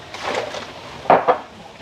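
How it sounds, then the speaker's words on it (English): A whisk scrapes and knocks against a bowl while mixing beer batter. Two sharper clacks stand out near the middle, amid a quieter, rapid stirring rustle at close range. "And then we whisk it together."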